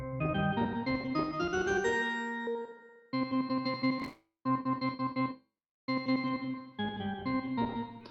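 Guitar notes and chords played in short bursts, each phrase trailing off into a spacious large-room reverb tail from Bitwig before brief silences.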